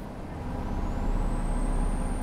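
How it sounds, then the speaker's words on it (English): A loud bus in the OMSI 2 driving simulator rumbles steadily at close range, a broad engine drone with a thin rising whine and a low roar swelling midway, while a voice talks faintly. "This bus is exceptionally loud."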